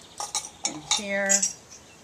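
Metal silverware is dropped into small handmade terracotta pots, giving several close, bright clinks and rattles in quick succession, with one longer ringing clink near the middle; no talking.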